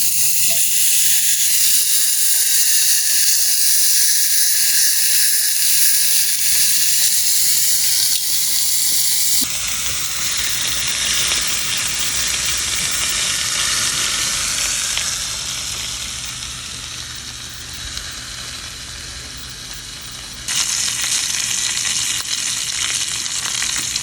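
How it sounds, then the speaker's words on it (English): Loud, steady sizzling of a thick steak frying in a hot pan, continuous and close, with the hiss shifting slightly in intensity as it goes. "Let's listen to it sizzle."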